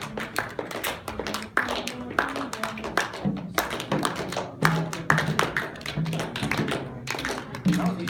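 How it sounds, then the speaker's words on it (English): During a Cuban folkloric ensemble rehearsal, a group claps a rhythm along with clave, the sharp hand claps falling in a repeating pattern while voices speak or chant underneath. "Just clap through it and say through it."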